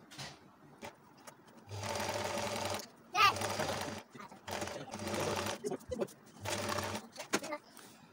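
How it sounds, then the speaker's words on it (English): Sewing machine stitching along a traced line on a shoulder-dart bustier, running in several bursts of about a second each with short pauses between, close and steady, under quiet talk. "Then you start stitching."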